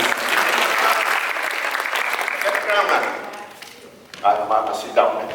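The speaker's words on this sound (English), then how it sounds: "Round of applause, Mr. Wan." Applause from a crowd at a welcome gathering for a Singapore school choir fills the first few seconds with dense clapping, then fades as a few voices and thumps take over near the end.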